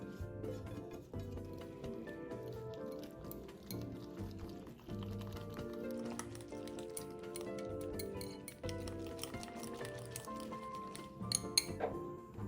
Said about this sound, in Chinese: 再将苦瓜倒入鸡蛋内，一起拌匀